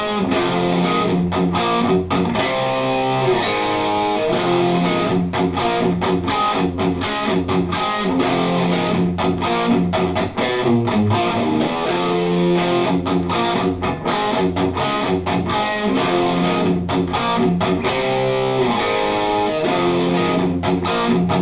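A distorted electric guitar plays a riff on a slow loop, dense and loud with chugging, sharply picked notes repeating throughout.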